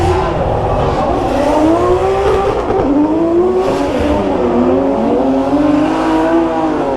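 A drift car slides around the track at a Drift Masters practice session in Ireland, its engine wailing and revving in sweeping rising and falling tones, loud and continuous with tire noise beneath.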